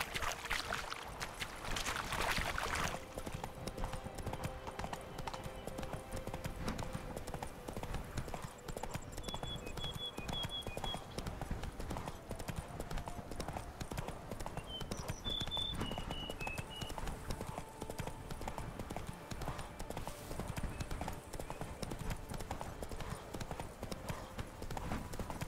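Horse hooves galloping in The Witcher 3 video game, a fast steady clip-clop rhythm running throughout at moderate volume, with faint game ambience and brief speech.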